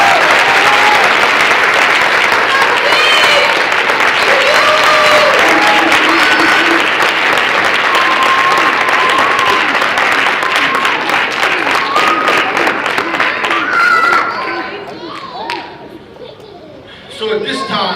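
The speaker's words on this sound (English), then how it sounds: "Can we give these gentlemen one more round of applause?" A graduation audience applauding the graduates, loud sustained clapping with cheering and voices mixed in, which fades near the end as the room quiets, then picks up briefly.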